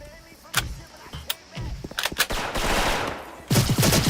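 Gunfire in a shooter video game: several sharp, loud shots crack out in scattered bursts, ending in a quick rapid string, over steady game background noise.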